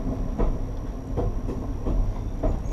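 Amtrak Train 151 rolling through the Montview–Kinny connector near Lynchburg, heard from the rear, with a steady rumble and evenly spaced clunks from the rails, chugging along at a moderate pace with no talk.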